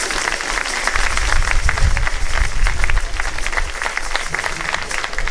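A congregation applauds during a closing Mass, steady dense clapping from many hands filling the space for several seconds, with faint crowd murmur underneath.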